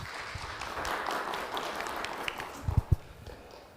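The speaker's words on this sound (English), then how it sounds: "Please applause for him." Soft, scattered audience applause at a tech conference talk, a faint patter of clapping with a few louder thumps near the end.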